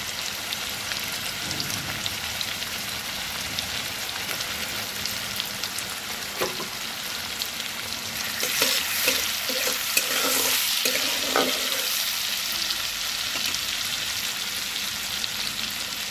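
Drumstick greens fry in a pan with salt and turmeric, a steady hissing sizzle close by that briefly grows louder with a few stirring clicks and scrapes.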